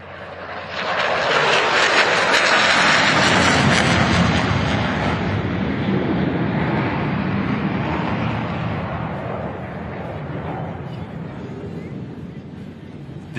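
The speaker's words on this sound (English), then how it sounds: "Look to your left as Corby brings the F-35C in for a simulated carrier brake at 400 knots." An F-35C jet roars low over show center on a simulated carrier approach at a July 4th flyover above the National Mall, a loud sustained engine rumble that swells quickly and then slowly fades.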